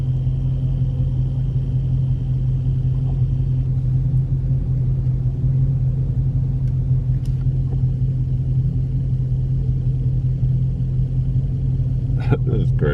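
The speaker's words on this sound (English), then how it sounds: "Yeah, a bunch of V6s, man." A crowd of V6 cars at a highway car meet gives a low, steady engine rumble throughout, with someone talking over it and a few sharp clatters near the end.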